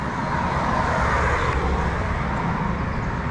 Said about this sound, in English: you're going to pick up the odd car coming through.